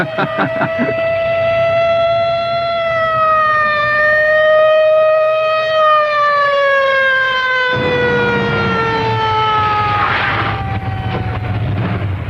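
A loud police car siren wails steadily, its pitch slowly drifting and falling, sustained without a break and accompanied by a rumbling engine, at night.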